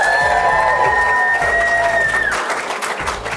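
A live audience at a shares-versus-property finance debate cheers, whoops and applauds loudly all at once, a dense roar of voices and clapping with a sustained shouted note over the crowd.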